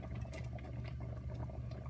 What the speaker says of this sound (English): And you can hear it just bubbling quite a bit.